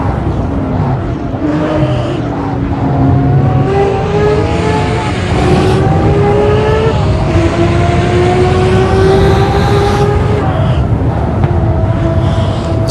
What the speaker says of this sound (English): Ferrari 312, like one of the coolest Can-Am cars ever.